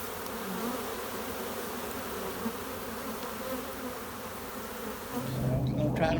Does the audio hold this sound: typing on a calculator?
no